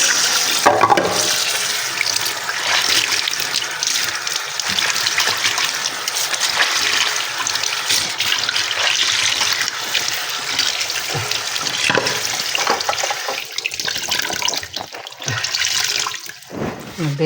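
Water pours steadily from a tap into a sink, a continuous close rush with occasional clinks and splashes.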